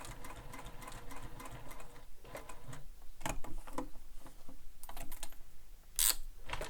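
A sewing machine stitches a backpack strap in short rapid bursts of mechanical whirring and clatter, broken by brief pauses and a sharp click near the end, close and fairly quiet.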